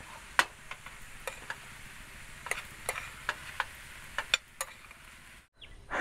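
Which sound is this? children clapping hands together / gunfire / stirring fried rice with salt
stirring fried rice with salt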